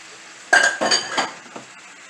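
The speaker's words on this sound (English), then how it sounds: "I'm going to dump your shrimp right in the middle." Raw shrimp dumped into the center of a pan of Cajun steak, landing with a sudden clatter and a short burst of sizzle, followed by a few softer scraping stirs.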